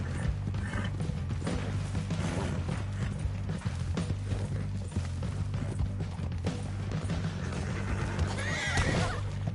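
A horse in the video game Red Dead Redemption 2 gives a loud, rising whinny near the end amid clopping hooves and mechanical game noise, fairly close and with no talking.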